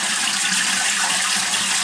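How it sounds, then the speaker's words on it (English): A household toilet with a faulty flush gushes steadily as water rushes through the bowl, a loud, close, continuous hiss with no talking. "Doesn't flush properly."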